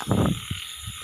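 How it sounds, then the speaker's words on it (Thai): Frogs of several kinds, including small field frogs and narrow-mouthed frogs, croak in a rainy-season setting: a close burst of croaking followed by a few shorter, fainter calls. "กบทั้งเขียดทั้งอึงเยอะมากปีนี้"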